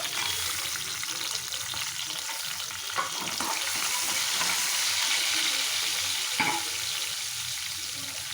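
Sliced green chillies and green peas fry in a pan, giving a steady, close sizzling hiss with a couple of brief stirring clatters and no talking.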